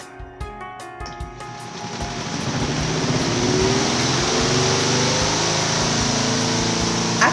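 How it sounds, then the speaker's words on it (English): A portable washing machine and dryer starting its spin cycle: a few knocks and clicks, then a motor whirring up to a loud, steady hum with a rising whine. "I push it down, close this up, and I start my spin"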